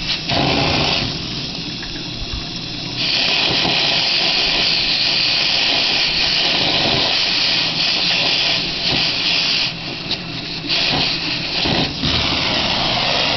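An HHO generator torch burns Brown's gas and enriched gas with a loud, continuous roaring hiss up close, holding steady with small shifts in intensity and no voices.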